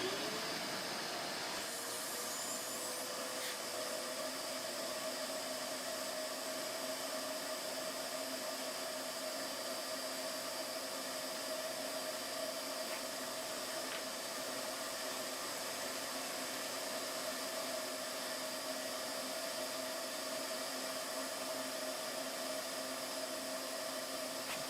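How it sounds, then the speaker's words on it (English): A shop vac runs steadily throughout, a constant loud whooshing motor hum with hiss, used for sucking up diesel fuel from a port above the fluid level. No talking. "You get your shop vac."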